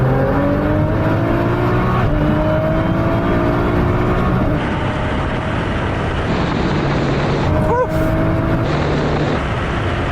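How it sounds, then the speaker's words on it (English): A tuned Nissan GT-R, one of three tuned to between 650 and 1600 horsepower, pulls hard from 50 mph in third gear during a roll race, engine note climbing steadily with a shift, loud and close throughout. "Right, Sam, what we're going to do this time is 50 mile an hour third gear roll on"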